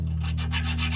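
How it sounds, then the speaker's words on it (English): A metal file rasps rapidly back and forth cleaning the channels of a heavy brake caliper on a 1997 Dodge Ram 2500 van, close and steady over a low hum. "now we got to clean these channels. Metal file,"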